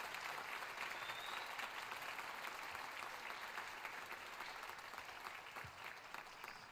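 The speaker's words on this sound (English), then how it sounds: "Come back out, accept a round of applause." Audience at a school band winter concert applauding the symphonic band, a continuous wash of many hands clapping, distant and fairly quiet, sustained without a break.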